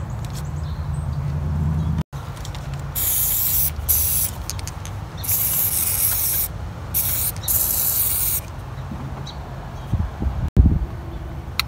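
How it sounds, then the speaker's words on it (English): Lubricant sprayed from an aerosol can onto the PCV valve area of a 2003–2013 Toyota Corolla engine, several hissing bursts of varying length separated by short pauses, close and fairly loud. "I'm going to spray some lube on here."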